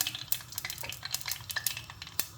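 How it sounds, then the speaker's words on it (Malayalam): Mustard seeds crackle and pop in hot oil, a dense run of sharp little bursts over a steady sizzle. "അപ്പോൾ അതായത് നമ്മുടെ കടുക് ഇവിടെ പൊട്ടിയിട്ടുണ്ട്"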